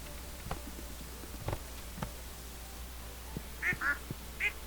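Three quick cartoonish duck quacks sound near the end over a steady low background hum from Stardew Valley. They follow a few soft, sparse footstep-like taps.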